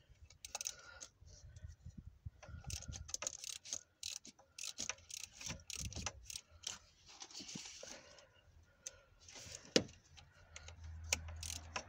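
Socket ratchet unscrewing a cylinder head bolt on a license-free car with a Kubota Z402 engine, faint irregular clicks and metallic ticks close up in a quiet setting.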